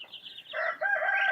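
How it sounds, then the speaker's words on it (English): Young chicks and chickens give short, near, fairly soft peeping and clucking calls in a quick burst with no talk. "You're very excited to see the chicks."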